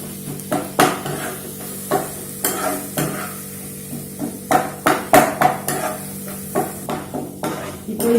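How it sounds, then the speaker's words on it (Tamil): Chicken gravy masala with tomatoes sizzles in a pan while a spoon stirs it, giving a run of sharp, rhythmic scraping knocks over a constant frying hiss, close and clear with no talk. "இது எல்லாம் நல்லா மசாலாவோட சேர்ந்து இது நல்லா இந்த தக்காளி எல்லாம் சேர்ந்து நல்லா வதங்கணும்"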